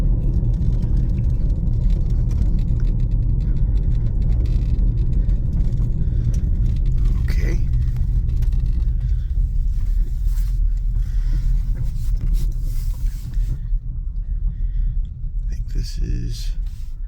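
A car drives at night along a dark road in the Andes, a steady, close engine rumble and road roar continuing throughout with someone talking over it.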